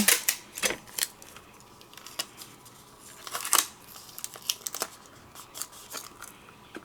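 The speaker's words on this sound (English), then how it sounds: "I'm going to tape this down" Adhesive tape is pulled and pressed down to hold slick, warped paper flat on a die-cutting press, giving a series of quick crackling tears and taps at close range, with no voices.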